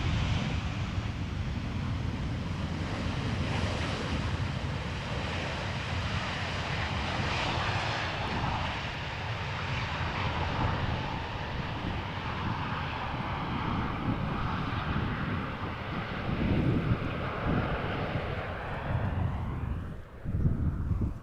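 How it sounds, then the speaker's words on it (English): KLM Boeing 737-800 arriving at Amsterdam Schiphol airport, a steady broad engine roar heard from a distance outdoors with wind rush, sustained and fairly faint throughout. "arriving from London Heathrow, another Boeing 737-800"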